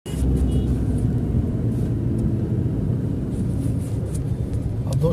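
A Hyundai Creta drives after a wheel alignment and steering correction, giving a steady low road rumble and engine drone heard from inside the cabin, with brief faint knocks and clicks.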